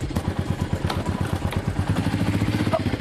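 A motorcycle runs nearby on narrow lanes, its engine putting out a fast, steady, rhythmic chug at moderate loudness with a few light clatters over it.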